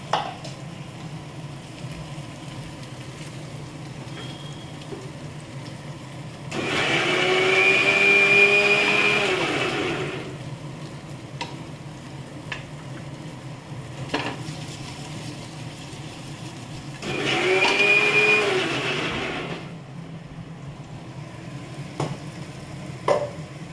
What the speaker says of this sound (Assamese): এইটো মই মিক্সিত গুড়া কৰি লওঁ